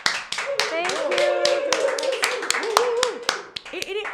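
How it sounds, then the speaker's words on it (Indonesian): Applause from a podcast studio audience, quick sharp claps repeating at an uneven rhythm for several seconds while a person speaks over them. "Michelle Conley, tepuk tangan."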